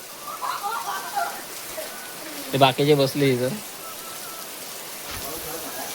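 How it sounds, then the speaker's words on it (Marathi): Heavy monsoon rain falls steadily outdoors near a village school in Konkan, a dense, even patter on surfaces. Someone speaks briefly over the constant downpour. "पाऊस खूप पडतोय बघा."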